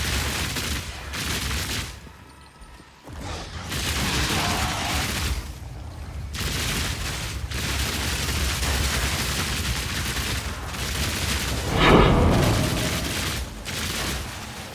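Rapid crossbow shots in Path of Exile 2, a dense fusillade of repeated bursts with occasional booming impacts, continuing steadily throughout without speech.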